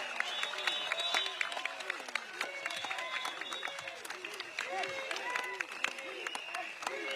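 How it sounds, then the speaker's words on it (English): A crowd applauding at an outdoor Progress Singapore Party election rally at Catholic High School, with steady dense clapping and scattered cheers throughout, moderately distant. "Can we have one more round of applause for Bock, as well as our candidates standing for the election?"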